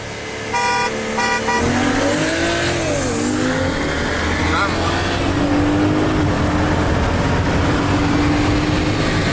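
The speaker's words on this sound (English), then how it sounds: "Honk it," A car horn honks in short bursts over a loud, steady engine roar from a Jeep SRT racing a BMW 335i, with voices talking briefly near the start.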